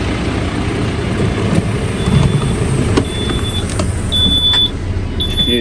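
An intermittent high electronic alarm tone sounds in repeated short beeps from a Terberg Omnidel bin lift, over steady engine and machinery rumble outdoors.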